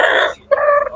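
Young hens at an autumn animal market cluck loudly up close in two short bursts separated by a brief pause.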